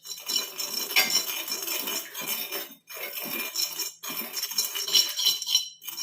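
A spoon stirs spice powder as it roasts in a pan on the stove, giving a continuous dry scraping and clinking of metal on metal with two short pauses, close and fairly loud, with no voices.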